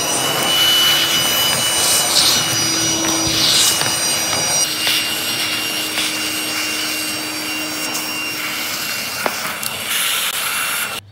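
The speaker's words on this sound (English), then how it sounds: "go ahead and vacuum your track" A loud, continuous vacuum cleaner whine with rushing air, vacuuming a sliding glass patio door track close by for about eleven seconds, with slight shifts in pitch as the nozzle moves.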